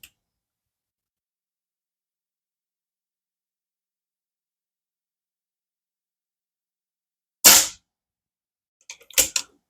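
Diana Chaser air pistol with a bottle conversion, two sharp snapping shots separated by long silence, the first loud and crisp, the second followed closely by a faint ticking clatter.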